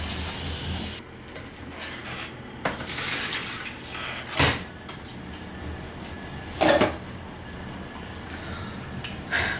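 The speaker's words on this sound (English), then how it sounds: "Now it's going around and spinning." A small portable washing machine spinning with water inside, a steady whirring, sloshing drone with occasional louder thumps and knocks as the load shifts, continuous throughout.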